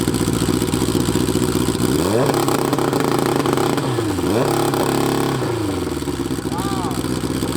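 Turbocharged Hayabusa-swapped Raptor engine revving hard against a two-step launch limiter, loud and close, its pitch climbing and holding in several sustained bursts with popping crackle, one voice heard briefly near the end.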